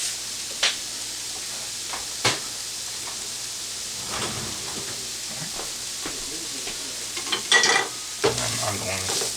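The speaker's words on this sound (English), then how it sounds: "I'm going to stir this up" Leftover grits and roast beef stew stirred in a sizzling pan, a steady frying hiss under scattered scrapes and clinks of the utensil, with a few louder knocks near the start and toward the end.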